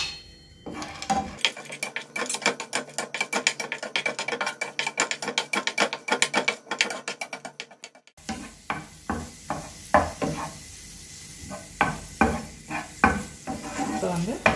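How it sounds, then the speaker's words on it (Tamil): Cashews and raisins roast in hot ghee, with a soft steady sizzle under rapid rhythmic scraping of a spoon in the pan, then slower, scattered stirring strokes. "இப்போ இதில் வந்து நம்ம இந்த முந்திரி பருப்பையும் கிஸ்மிஸையும் வறுத்து எடுத்துக்கலாம்."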